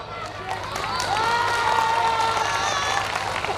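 An audience at a stand-up comedy show at a literary festival breaks into clapping and cheers that swell after a second and hold steady, with a voice faintly heard over the crowd.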